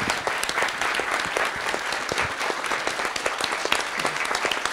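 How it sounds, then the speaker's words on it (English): A conference audience at a Bitcoin scaling event gives the panel a big round of applause, crisp individual claps standing out within a sustained, lively burst of clapping that carries on without pause. "give them a big round of applause"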